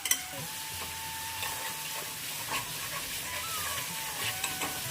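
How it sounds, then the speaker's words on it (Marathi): Potatoes frying in melted ghee for sabudana khichdi, a steady close sizzle with occasional stirring scrapes and small pops, no talking. "आता आपण पोटॅटो फ्राय करून घेऊया"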